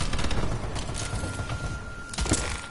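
Rapid turret gunfire in an online shooter game, a dense crackling burst of shots running steadily, with sharper louder volleys near the end and no talk over it.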